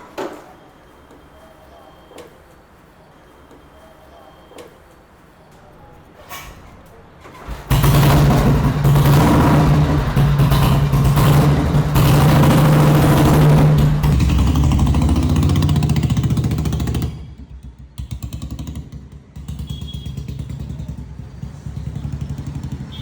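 A rare 1962 England-made vintage vehicle starts up after some quiet clicks and fumbling, then its engine runs loudly and steadily close by before settling to a lower, uneven idle.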